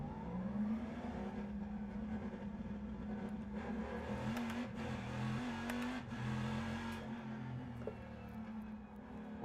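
Race car engine in a sim racing game, a continuous buzzing drone that rises and falls slightly as the car laps, moderately quiet and steady with no talk.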